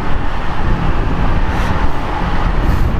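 A continuous, dense rumble of heavy road traffic in Taiwan with engines droning steadily throughout, fairly loud and close, with no talking.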